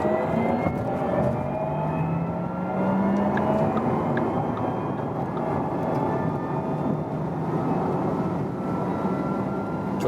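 A Porsche Taycan 4S electric car accelerating hard from 80 km/h, a rising whine over steady road and wind roar, heard from inside the cabin at moderate level.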